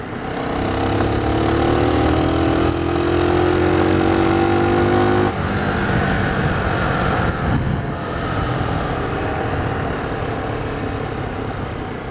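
Lexmoto 125 Assault motorcycle ridden in low gears: a buzzy single-cylinder engine climbs in revs, cuts off abruptly, then settles into a rougher, lower running note, heard close with no talking.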